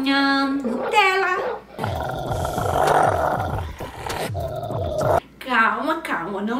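A small dog growls and barks in a rough, snarling stream indoors, near and loud, with a voice talking around it.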